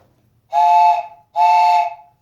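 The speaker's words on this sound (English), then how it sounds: "the original whistle" Two short, loud whistle blasts from a 1935 Marx 397 toy train set, with a breathy, steamy tone, each about half a second, separated by a brief gap.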